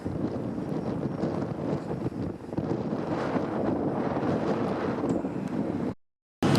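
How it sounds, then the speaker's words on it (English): Strong wind from a wind storm outside an oil refinery in Kern County buffets the microphone in a steady, loud roar with low rumbling gusts, cutting out briefly near the end before resuming. "Really windy out today"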